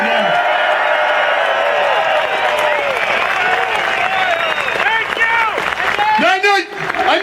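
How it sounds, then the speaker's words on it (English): A rally crowd in defense of the Second Amendment in Albany, NY claps and cheers for veterans, with sustained loud applause, scattered whoops and shouting voices rising and falling throughout. "A round of applause for those vets out there tonight."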